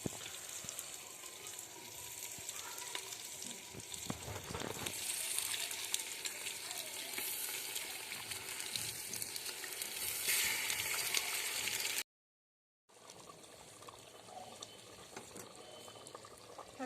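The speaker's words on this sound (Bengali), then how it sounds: "এবার ম্যারিনেট করা মাংসটা আমরা হাঁড়ির মধ্যে দিয়ে দেব" Marinated chicken hits a hot clay handi in a village kitchen, giving a steady, close sizzle and crackle that runs throughout, broken by a brief silent gap near the end before the frying resumes.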